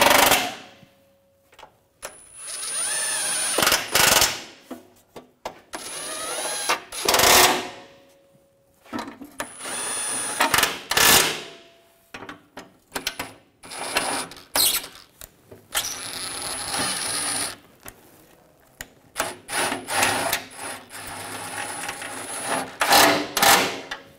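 Bolts being tightened on the crankshaft position sensor panel of a 2006-2010 BMW 550i 4.8L V8, with repeated close ratcheting and scraping bursts separated by short pauses.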